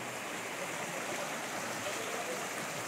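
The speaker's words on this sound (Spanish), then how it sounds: "La quebrada La Cristalina, que parece más bien es un río. Esas cascadas." Quebrada La Cristalina, a mountain stream with waterfalls in the Serranía de las Quinchas, Colombia, rushes as a steady, faint broadband wash of water with no pauses.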